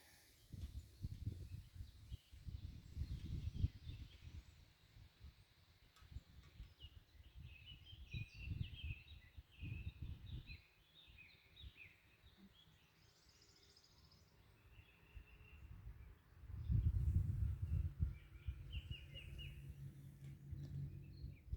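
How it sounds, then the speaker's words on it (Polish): Birds sing softly in the distance, scattered chirps and trills over low rumbling handling noise close to the microphone. "słychać też śpiew ptaków"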